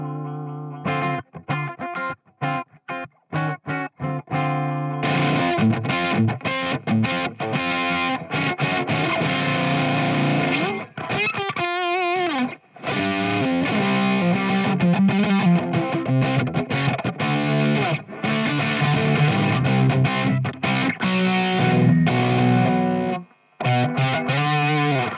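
A Rivolta Combinata electric guitar on the bridge pickup, played through Valco fuzz pedals, rings out as loud distorted chords and riffs with brief gaps, continuous and dense throughout.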